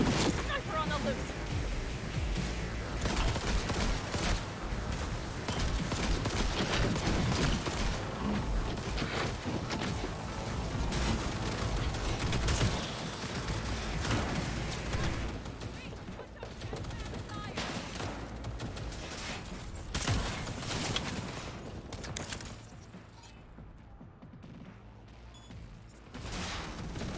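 Dense, continuous gunfire in the video game Cyberpunk, rapid bursts and shots layered into a loud barrage that thins out toward the end, with voices talking over the shooting.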